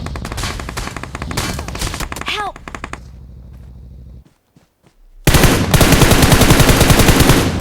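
Rapid automatic gunfire bursts in the battle royale game BGMI, loud and close, then a brief near-silent gap before another dense stretch of sustained firing.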